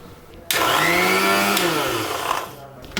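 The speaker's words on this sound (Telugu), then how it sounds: "ఇవన్నీ కలిపి మిక్సీ వేసుకోవాలి." A mixer grinder blending mint rice paste ingredients kicks on abruptly and whirs loudly. Its pitch sags slightly as the load thickens, then it cuts off.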